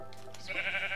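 A sheep bleats in the Minecraft video game, one short wavering bleat, close and fairly quiet, following a soft blip.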